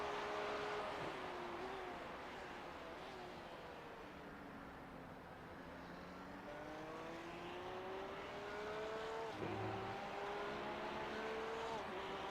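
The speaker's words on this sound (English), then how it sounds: "Just so I could hear what your engine sounds like." Race car engine in an iRacing Daytona 24 Hours endurance race, a sustained droning whine that rises and falls with shifts and speed, tires occasionally squealing, steady and close throughout.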